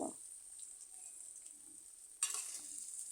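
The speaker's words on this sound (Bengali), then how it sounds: "লবণ হলুদের গুঁড়ো দিয়ে আমি দু তিন মিনিট আলু বেজে নেব" Potatoes fry in a pan with salt and turmeric, giving a faint steady sizzle with a brief louder hiss of stirring near the end, quiet and close with no talk.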